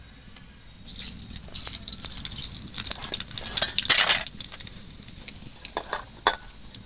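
Nigella seeds hit hot oil for cauliflower frying and burst into a bright crackling sizzle that swells for a few seconds, then settles into softer popping.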